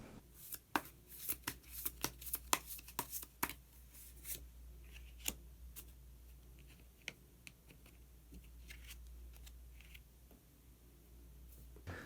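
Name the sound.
drawing tarot cards for a reading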